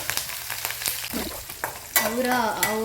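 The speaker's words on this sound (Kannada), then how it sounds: "ಸೊ ಇದಾದಮೇಲೆ ಗ್ರೀನ್ ಚಿಲ್ಲಿ ಹಾಕ್ತಾಯಿದ್ದೀನಿ" Green chillies dropped into a hot pan sizzle and crackle with sharp stirring clicks, the frying rising louder partway through, close and busy.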